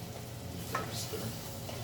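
Garlic frying in a pan for meat spaghetti, a steady close sizzle with a brief scrape of a spoon stirring partway through.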